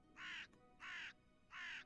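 Three evenly spaced harsh caws from a crow in the background, each about a third of a second long, steady and moderately loud over quiet ambience.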